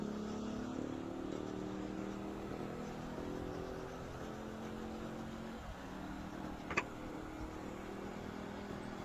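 Motorcycles ridden by women without helmets along a busy road, a steady engine drone with traffic rumble throughout and a brief sharp knock near the end.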